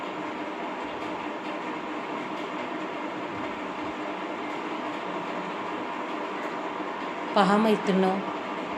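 Fish pieces fry in a pan with a steady, even sizzle throughout, and a voice briefly speaks near the end.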